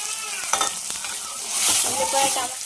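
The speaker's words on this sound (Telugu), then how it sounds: "బాగా వేగుతూ ఉన్నాయి, మిర్చి బాగా వేగుతూ ఉన్నాయి కదా" Onion, green chilli and tomato fry in hot oil with a steady crackling sizzle, and a spoon scrapes and stirs the pan in short bursts. The sizzle swells louder toward the end. Nobody speaks.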